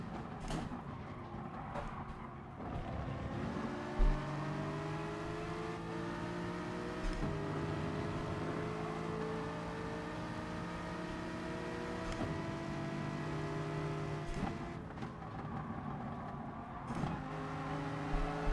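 An Aston Martin race car in GT Sport lapping a Brazilian track, its engine droning continuously with repeated rises in pitch through the gears and brief dips on each shift, heard alone.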